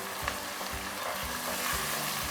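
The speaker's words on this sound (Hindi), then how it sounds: "इसको थोड़ा सा सुनहरी कर लेते हैं, लहसुन को और अदरक को।" Steady loud sizzling of garlic and ginger frying in hot oil, with soft rhythmic stirring scrapes throughout.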